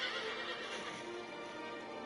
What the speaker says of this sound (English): Is my horse back?